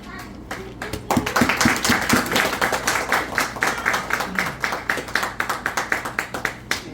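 Congregation at an evangelical church service applauding to welcome a pastor, a dense burst of hand claps that swells after the first second and carries on steadily, close and lively.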